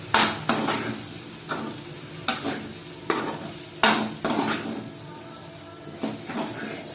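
Potato and capsicum stir-fry with coriander leaves being stirred in a pan, a spoon scraping in repeated strokes roughly every second over a soft steady sizzle, close and clear with no talk.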